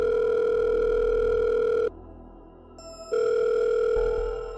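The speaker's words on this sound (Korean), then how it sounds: "제리는 친구들에게 전화를 걸었습니다" A telephone call's ringing tone, a loud, steady electronic tone that breaks off for just over a second and then resumes, heard alone without any voices.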